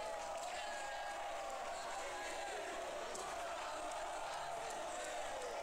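Spectators at an under-age São Paulo versus Clube Curitibano basketball game in the South American Cup fill an indoor gym with a steady, distant roar and scattered shouts, holding at a fairly even level.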